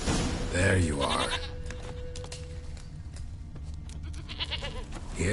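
A goat bleats in the video game The Witcher 3, a wavering cry near the start and again at the end, with hoof clip-clops and game ambience in between and a voice speaking.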